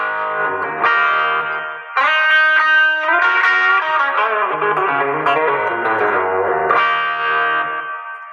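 Electric guitar played through the Morning Glory overdrive side of a JHS dual overdrive pedal, producing loud, sustained, gritty chords and notes that ring continuously with short changes between them and no talking.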